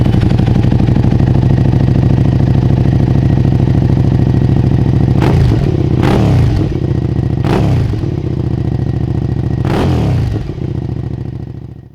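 A 645cc liquid-cooled V-twin motorcycle engine runs at a steady, loud, deep idle, with a few sharp clanks and scrapes near the end as the sound fades out.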